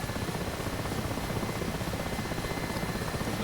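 Steady, dense rotor and turbine drone of an Mi-8 helicopter in flight in DCS World, a continuous close roar with no speech over it.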